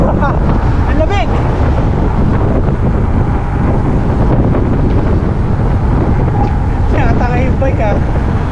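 Strong wind roars and buffets the microphone throughout a bicycle ride from Tagaytay to Batangas, a loud continuous rush that never lets up, with voices talking briefly over it.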